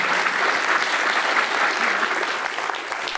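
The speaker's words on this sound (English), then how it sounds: "I'd like you all to give the panel a loud round of applause." An audience applauds a panel at the Portland Retro Gaming Expo, a dense, even wash of clapping that holds steady and fades slightly toward the end.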